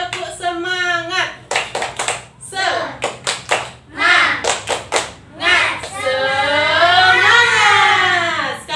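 Children in a classroom perform a patterned spirit clap, bursts of rhythmic group handclaps alternating with chanted voices and an adult teacher speaking.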